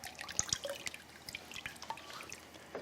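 Raw chicken rinsed briefly in cold water in a kitchen, giving soft scattered drips and light splashes over a faint running-water hiss, fairly quiet and close.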